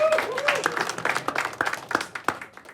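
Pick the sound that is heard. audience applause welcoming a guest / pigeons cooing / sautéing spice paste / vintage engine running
audience applause welcoming a guest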